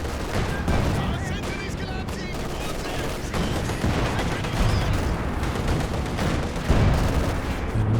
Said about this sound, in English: Base howitzer fire coming in